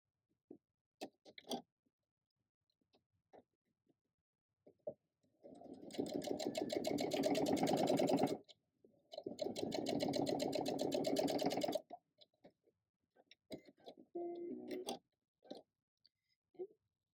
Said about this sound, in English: I sew 3 of those together